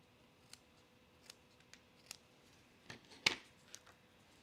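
Scissors snip along paper card edges at a kitchen-table stamping session, making a series of sharp, crisp cuts at an uneven pace, close and fairly quiet, with one louder snip near the end.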